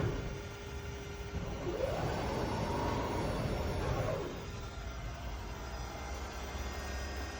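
An electric Jaguar converted with a Lexus drivetrain runs in reverse as throttle is applied, its motor whine rising and falling over a couple of seconds above a steady low hum.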